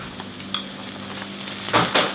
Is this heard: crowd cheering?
no